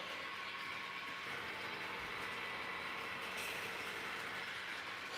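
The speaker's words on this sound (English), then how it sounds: "What is the train getting caught on for? I hear it slowing down." An HO scale model train rolls along its track and slows down, a steady, close mechanical rumble with faint clicking wheels that continues evenly throughout.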